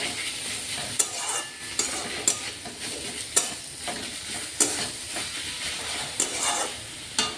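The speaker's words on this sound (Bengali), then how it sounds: "পেঁয়াজটা কষানো হয়ে গেছে, এবার রসুন বাটাটা দিয়ে দিচ্ছি আমি মধ্যে।" Onion sautéing in a pan with garlic paste just added, a steady frying sizzle broken by repeated scraping stirs about once a second, close and continuous.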